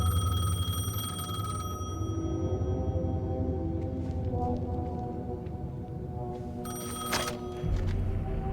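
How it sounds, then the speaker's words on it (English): A payphone rings inside the Alan Wake 2 video game, a repeating electronic bell ring over a low, droning ambient game soundscape. "The payphone was ringing."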